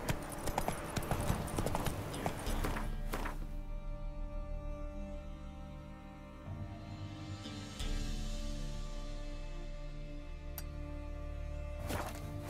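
Horse hooves clip-clop steadily at a trot in The Witcher 3 game, a loud rhythmic patter that continues throughout over a musical score, briefly easing mid-clip before resuming.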